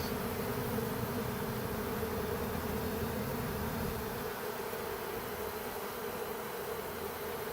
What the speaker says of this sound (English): we've got a swarm moving into an empty box.